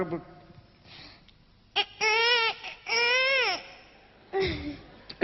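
A voice imitates a small child crying, with several rising and falling wails in short bursts separated by pauses, at a Thai concert in 2004.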